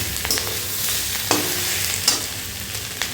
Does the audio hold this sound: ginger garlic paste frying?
yes